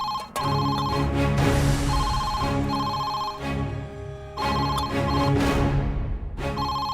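An indoor telephone rings in a Tamil TV serial scene, loud repeated bell-like bursts of about a second each with short gaps between them. No one talks over it.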